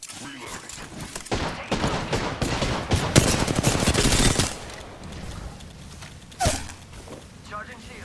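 Gunfire in the video game Apex Legends comes as rapid, loud bursts of automatic shots, then tapers into scattered single shots, with footsteps and a voice speaking over the action.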